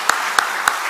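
Church congregation applauding a family during a Sunday worship service, a short burst of scattered claps over a steady crowd murmur, with three sharper claps standing out.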